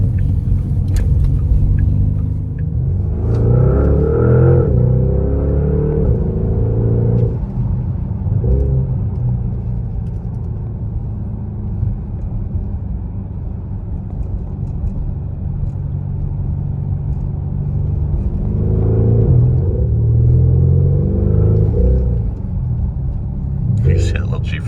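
A 2026 Porsche Panamera GTS rolls down a small back road, its engine a steady low rumble with a few swells of acceleration, while someone talks over it throughout.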